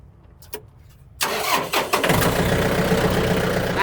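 A Yanmar 51 hp tractor diesel engine cranks with a couple of starter bursts, catches abruptly and settles into a loud, steady, rumbling idle, heard up close with no talk.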